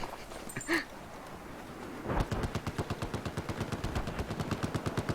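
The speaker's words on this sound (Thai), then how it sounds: "แม่งยิงจนกระสุนแม่งหมด" Machine gun fire in the Battlefield 4 video game: one earlier shot, then a long, evenly spaced burst of rapid, punchy rounds running steadily to the end.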